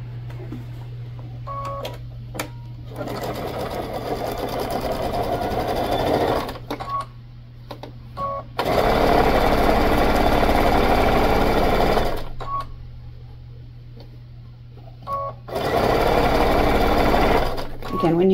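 Home sewing machine stitching a bag seam and backstitching across a seam junction, a loud rapid mechanical whir running in long stretches with short stops, close to the microphone, over a steady low hum.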